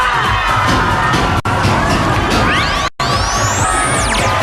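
A group of contestants, the Dabber Cats from Sampaloc, Manila, jump and shout loudly on a noon-time TV variety show, with a crowd cheering, a crash-like thud and swooping whistle effects.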